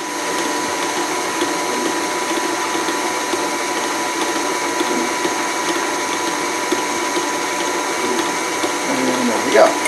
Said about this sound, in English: Go ahead and speed that up just a little bit. Get that blended in nicely until everything is nice and smooth.